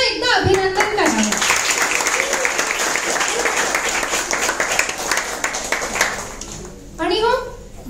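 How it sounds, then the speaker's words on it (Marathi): Audience applause at a school Marathi language fortnight event with a manuscript publication, a long sustained burst of many hands clapping that fades toward the end, with someone speaking briefly before and after. "आणि या सर्वांचे टाळ्या वाजून पुन्हा एकदा अभिनंदन करावे"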